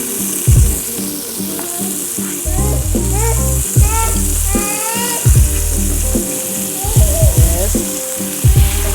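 Steak seasoned with Himalayan salt and black pepper sizzles steadily in a hot pan, a constant crackling hiss with some stirring knocks, while a person talks over it.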